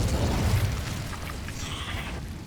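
Incendio fire spell cast in Hogwarts Legacy: a booming, bursting whoosh of flame with a rumbling low end, fading over a couple of seconds.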